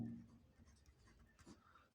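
A pen writing on paper while a geometry answer about triangle angles is set down, a faint close scratching over about two seconds with no voices.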